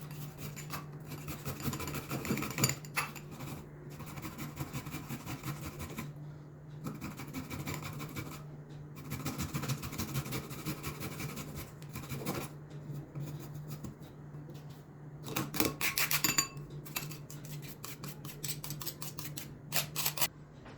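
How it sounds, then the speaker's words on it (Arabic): Fresh ginger rasped against a grater for a cold lemon and cinnamon juice drink, giving steady scratchy strokes in short bursts with brief pauses, close and moderately loud with no talking. "نبدو نرابو الزنجبيل تاعنا"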